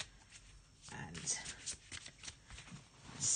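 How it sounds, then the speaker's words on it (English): Tarot cards shuffled close by in quick riffling bursts, with brief pauses between the flurries and a soft clatter at the end. "Let's just have a shuffle again."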